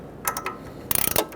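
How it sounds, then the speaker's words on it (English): An 18mm ratchet wrench clicks in a quick run of about ten ratcheting ticks while tightening a sway bar link nut on a 2000-2007 Ford Taurus front strut, after a few scattered scraping clicks. "ratchet wrench for the nut"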